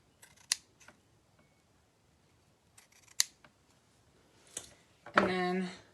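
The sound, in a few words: cutting ribbon with scissors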